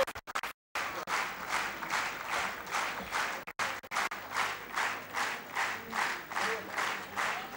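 At a large corporate celebration, an audience claps in unison with a steady, rhythmic beat, after a few choppy breaks at the start, the pulses repeating evenly and fairly loud.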